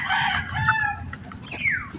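Young roosters in a backyard cluck and let out short, rough crowing calls, close and fairly loud, with a rising squawk near the end.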